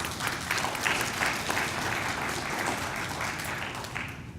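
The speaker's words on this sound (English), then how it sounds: "Let's give her another round of applause." Sustained applause from an audience at a Phi Theta Kappa honor society induction ceremony, a dense, steady clapping that fills the room evenly throughout without a break, with no speech over it.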